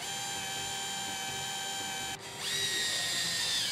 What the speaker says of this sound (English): with our drill set to slow speed, we'll start each of these bolts into the existing holes on the frame